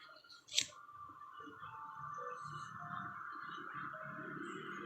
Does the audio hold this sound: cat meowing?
no